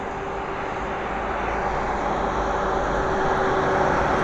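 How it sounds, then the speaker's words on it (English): A Boeing KC-135 tanker on approach to land at Abbotsford gives a steady, broad jet roar with a faint whine, building slightly in loudness across the few seconds without any voices. "so this is our third KC-135 coming in here"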